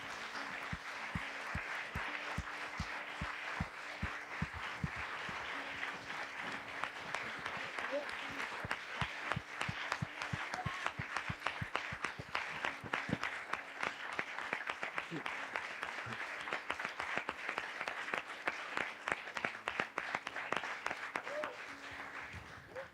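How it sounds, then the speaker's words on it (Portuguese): A church congregation claps in sustained, fairly distant applause with sharp individual claps standing out, while voices murmur underneath. "Eu queria que você aplaudisse a Jesus por essas vidas."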